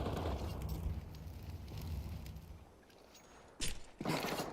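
Grenades going off in a Counter-Strike match: a heavy, rumbling blast fades away, then two sharper bursts follow close together near the end.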